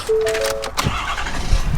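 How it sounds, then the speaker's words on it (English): A Ford F350 Powerstroke pickup truck's engine cranks briefly and catches, a short close starting sequence with a whine at first and then a rough idle. "let's go ahead and start the truck up"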